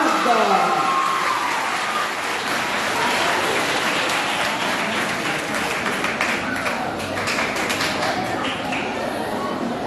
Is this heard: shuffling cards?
no